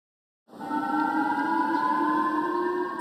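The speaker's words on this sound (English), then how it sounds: "Sirens sounded over Japan this morning, warning people to take cover" Air raid warning sirens over Japan rise from silence to a sustained wailing tone, loud and steady, holding their pitch with a slight echoing quality.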